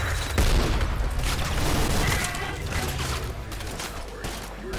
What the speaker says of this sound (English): Oh, grenade.